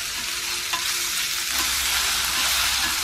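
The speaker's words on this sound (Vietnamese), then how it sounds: "Phần nấm này thì mình sẽ xào khoảng 2 phút." Shiitake and straw mushrooms stir-fried in a pan with seasoning granules: a dense, even sizzle with faint stirring scrapes, continuous and close, with no voices.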